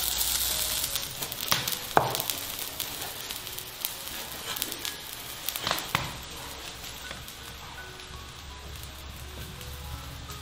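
Meat hisses in a wok with a little water, a continuous crackling sizzle close by, punctuated early on by a few sharp clatters before settling into a quieter steady fry.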